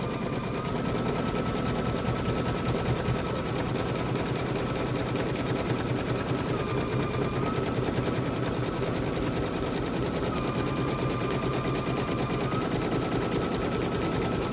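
A sewing machine runs a continuous satin stitch on a mug wrap, producing a steady, rapid, dense mechanical whir throughout, close and loud with no pauses.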